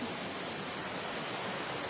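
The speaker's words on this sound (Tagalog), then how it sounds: "So nara siya among giagian nga sapa." A stream of clear fresh water flows in a steady, dense rush, a continuous broadband hiss without pauses or voices.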